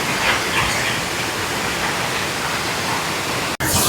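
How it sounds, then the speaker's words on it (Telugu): A steady, dense roar of rushing, falling water at Bongadari Waterfalls near Aradakota, Pedabayalu mandal, Alluri district, loud and continuous throughout; no voices. "ఇదే మన వాటర్ ఫాల్స్ అండి, చాలా అందంగా ఉంది."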